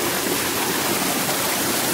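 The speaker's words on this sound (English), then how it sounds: "So the water comes in this side." River water pours into a micro-hydro intake in a steady, loud, continuous rush with no breaks, and no voices.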